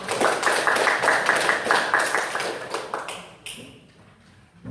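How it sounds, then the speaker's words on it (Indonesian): A classroom of students clapping their hands together in fast, dense applause that thins out and stops near the end, with a few scattered claps after. "Tepuk tangan yang pertama."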